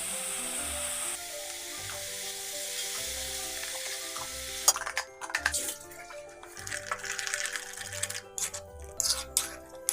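Ghee cream fries in a kerahi (wok), starting as a soft steady sizzle and breaking into louder, crackling bursts of spattering and stirring about halfway through, with no talk.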